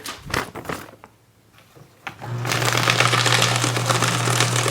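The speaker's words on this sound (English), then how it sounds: "let me go ahead and shred a couple of documents here" A steady mechanical whir with papery rustling settles in after a few scattered clicks and thumps, from a Fellowes Powershred 79Ci paper shredder shredding documents close by.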